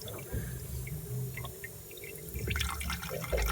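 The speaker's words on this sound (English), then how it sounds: "The water's coming out the bottom here." Water trickles and splashes steadily from a valve at the bottom of a diesel fuel tank, a continuous liquid flow with faint mechanical hum in the background.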